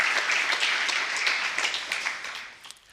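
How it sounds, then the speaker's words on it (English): An audience at a German research information session claps together in a dense burst of applause that slowly thins and fades out. "a warm applause to you also"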